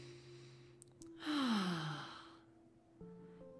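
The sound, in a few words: deep breath in during guided meditation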